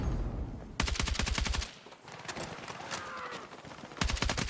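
Burst gunfire from a carbine in Battlefield 6, loud rapid bursts of shots with brief pauses between them over continuous game background noise.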